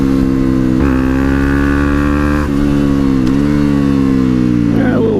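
Supermoto motorcycle engine at Deals Gap under heavy throttle, a loud steady droning rev with shifting pitch steps, recorded close on the bike with constant wind rush.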